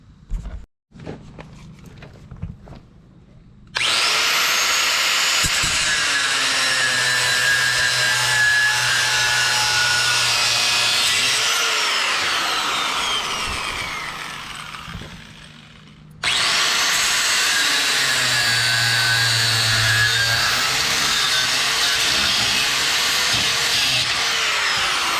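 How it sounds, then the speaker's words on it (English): Power tool cutting off an overlong bolt on a homemade motorcycle rack for a camper: a loud, steady whining cut runs close and continuous for several seconds, dips briefly, then resumes at full strength. "this bolt is too long, so I'm going to snip that off real quick"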